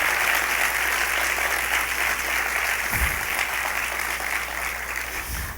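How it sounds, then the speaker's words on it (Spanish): Church congregation applauding during a Spanish-language sermon, dense sustained clapping filling a large room, steady and loud throughout with low rumble underneath. "Así que vamos a dar un aplauso al Señor por lo que ha hecho,"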